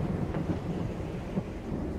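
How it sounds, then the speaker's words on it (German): Thunder accompanying a lightning effect in the remastered video game Another World, a low rumbling roll with rain-like hiss, moderately quiet and continuous without speech. "jetzt will ich aber einen super Special-Effekt sehen bei dem Blitz"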